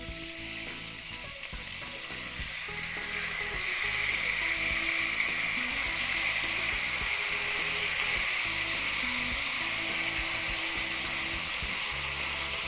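Barbecue sauce hits a hot wok holding giant Asian-style beef ribs and sizzles hard, a continuous bright frying hiss that grows louder after a few seconds, with faint stirring clatter underneath.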